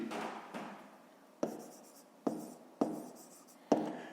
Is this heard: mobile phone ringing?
no